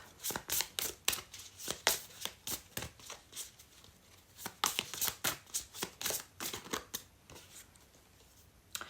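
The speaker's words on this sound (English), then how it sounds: "let me just pull out some extra cards to just end the reading" Tarot cards are shuffled and drawn, giving a rapid run of crisp riffling and slapping bursts. The bursts are close and fairly loud, with brief gaps between them and no talking.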